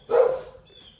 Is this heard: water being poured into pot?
no